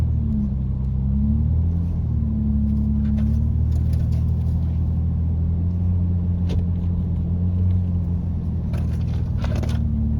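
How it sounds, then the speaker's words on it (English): An off-road vehicle grinds up a bush track on a border track trip, a low steady engine rumble filling the clip with occasional crunches and knocks from the terrain. "back on board now with Luca following Matt, coming up on that same section of track"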